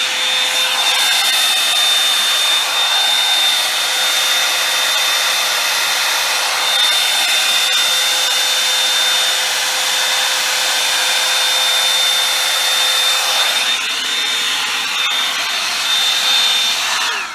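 Revlon and John Frieda hair dryer brushes running continuously at full power, a loud, close, steady blowing whir with a high whine that barely changes for about seventeen seconds, no talking.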